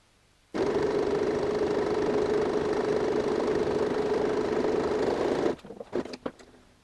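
A sewing machine runs steadily for about five seconds, stitching binding along the edge of a tote bag with a binding attachment, then stops with a few soft handling clicks.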